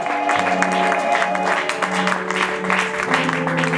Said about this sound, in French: nous le recevons avec beaucoup d'acclamation